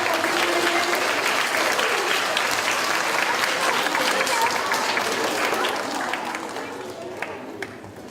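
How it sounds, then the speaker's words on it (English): A crowd at a school community meeting applauds steadily, dense clapping filling the room before gradually tapering off toward the end, with some voices mixed in. "a big round of applause"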